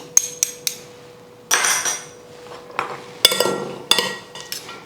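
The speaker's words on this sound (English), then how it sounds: "now we mix this all nicely up together" Waldorf salad being mixed together in a bowl, with clinking utensil knocks and scraping against the dish in irregular bursts, fairly close and without talk.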